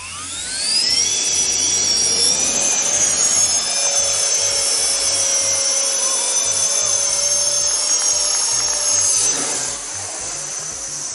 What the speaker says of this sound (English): There I did my first vertical takeoff and first transition to normal flight ever.